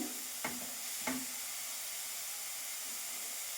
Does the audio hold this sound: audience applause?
no